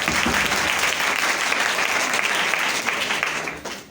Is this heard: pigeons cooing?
no